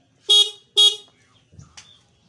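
A car horn gives two loud, short beeps in quick succession, followed by a few faint, scattered noises in an otherwise quiet setting.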